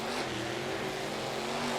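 Monster trucks launching off the start line at a race in Paxton, Illinois, a dense roaring engine rumble that swells slightly, heard from a distance over a broad noisy crowd-and-motor wash.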